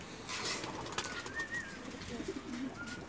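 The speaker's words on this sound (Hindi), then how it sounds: "तो ये कबूतर हैं" Soft pigeon coos and rustling wing flutters sound close by among ambient noise, with a few faint chirps, in Saudi Arabia.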